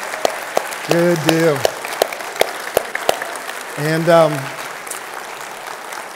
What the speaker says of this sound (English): just give them a big round of applause